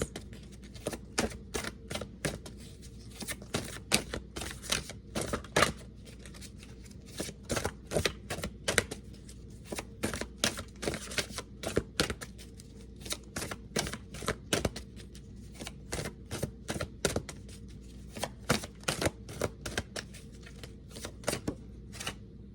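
Oracle cards being shuffled in a long, rapid series of crisp slaps and riffles, steady and close but fairly soft, with no speech.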